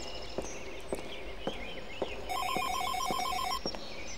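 A phone rings with repeated electronic trills in a short burst, close and clear. Soft thumping footsteps beat steadily underneath.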